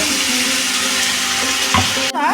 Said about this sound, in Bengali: এখন এই মিক্সি ধোয়া জলটাই আমি দিয়ে দেবো